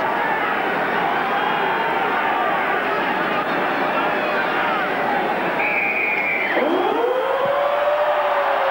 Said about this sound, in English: Not often you hear a siren at Eden Park.